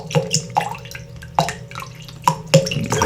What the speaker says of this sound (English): I'm about to pour some water